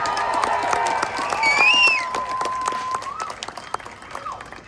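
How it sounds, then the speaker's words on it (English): At a marching band showcase, a crowd gives scattered applause for the percussion director, with sharp claps and a shrill whistle over a sustained tone and some voices. "Can we give him a round of applause for percussion?"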